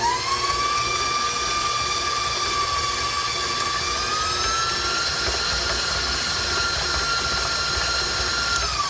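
A stand mixer with a paddle beats butter for coconut buns, giving a steady, loud, high-pitched motor whine that holds constant with a slight pitch shift midway, alone with no talk.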